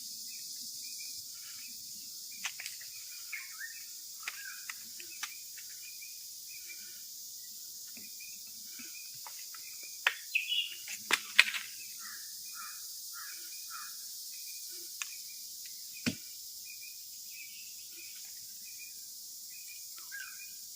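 Birds calling in Konkan countryside among jackfruit trees, with sparse short chirps and calls scattered across a steady high insect drone, a brief cluster of louder calls midway, all fairly distant.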